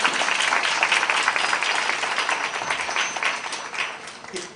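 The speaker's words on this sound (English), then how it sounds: "Give him a clap." An audience claps at a live talk event, a fairly quiet, steady patter of applause that stays even throughout and fades slightly toward the end.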